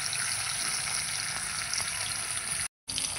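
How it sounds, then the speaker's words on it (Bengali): A hilsa fish head fries in hot oil in a pan, giving a steady, dense sizzle with faint stirring clicks that carries on loudly before a brief dropout. "আর এদিকে কিন্তু আমি মাথাটা ভেজে নেবো ভালো করে"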